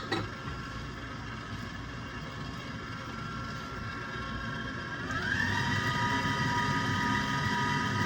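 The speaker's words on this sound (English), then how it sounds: "I like to use the KitchenAid because it does the work for me." A KitchenAid stand mixer kneads dough in a home kitchen, a steady motor hum and rumble running continuously and close, growing slightly louder and higher midway through.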